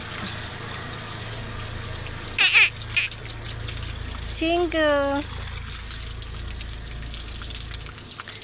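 Warm water runs steadily from a tap into a bucket outdoors where a child plays, a constant hiss beneath a voice speaking briefly in the middle.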